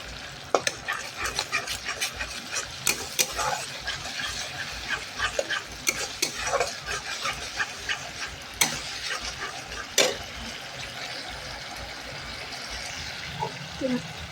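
Spices mixed with sour yogurt fry in a wok, giving a steady low sizzle broken by frequent sharp scraping clicks of a spatula being stirred, close-up and without speech.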